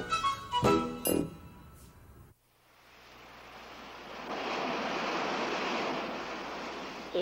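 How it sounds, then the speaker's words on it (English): Ocean surf builds from near silence into a steady, rolling wash of rough waves at moderate distance, following a short burst of bright melodic chimes at the start. "The ocean gets rough when there's a storm."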